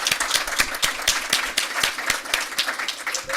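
An audience at a school board meeting gives a steady round of applause, many hands clapping together at an even level throughout, with no voices over it.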